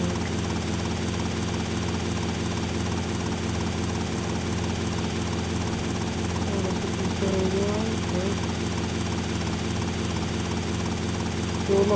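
A helicopter flies in the video game GTA Vice City, its rotor thrumming and engine droning loud and constant at close range, under a voice talking over it.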